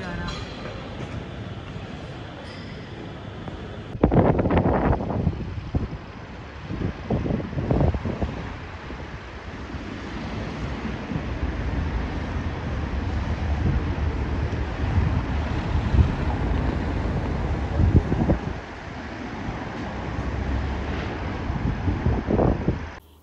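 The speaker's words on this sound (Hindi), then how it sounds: "ठंडी हवा चल रही है" Cold wind blows outdoors in Aberdeen, a steady low rumbling whoosh with gusty microphone buffeting rising and falling throughout, and a few brief louder bursts along the way.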